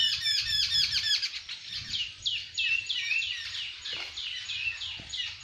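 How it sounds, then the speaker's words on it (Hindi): Several small birds chirp and tweet in quick, repeated bursts in a temple garden, fairly close and clear over a quiet background. "पक्षियों के किलोल करने की आवाज़, प्रकृति के मनोरम्य दर्शन हो रहे हैं।"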